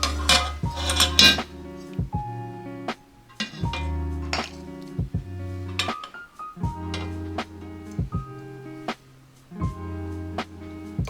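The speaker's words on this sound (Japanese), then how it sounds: "スープ皿ちょっと用意していただいて、そこにですね、スープを" Fish stew, a Breton cotriade, ladled into a soup plate: repeated close metallic clinks of a ladle against crockery, some bright and ringing, in irregular bursts over about eleven seconds with no talking.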